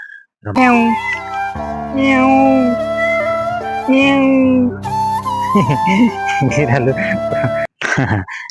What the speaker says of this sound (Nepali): बिरालो पनि रहेछ क्या यहाँ